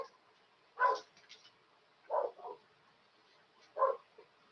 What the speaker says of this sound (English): And I can hear the dogs in the background there.